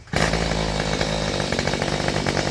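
A Mantis tiller's small two-stroke engine, its choke left halfway on, starts abruptly and runs loud and close with a buzzing, slightly uneven idle that continues to the end.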